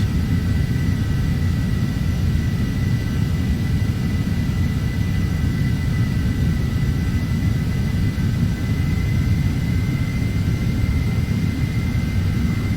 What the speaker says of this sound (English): with flight level change mode active, I can now put a bit more power in, and the aircraft will trade speed for climb rate